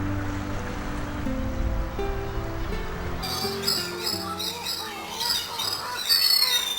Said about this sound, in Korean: 번식기를 맞은 슴새들이 섬으로 돌아와 시끄럽게 짖어댄다.